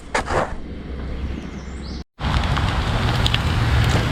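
Bacon fries in a pan at a lakeside campsite in northern Minnesota, giving a steady close sizzle and crackle with a brief dropout midway.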